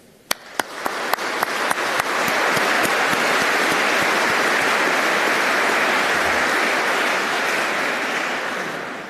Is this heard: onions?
no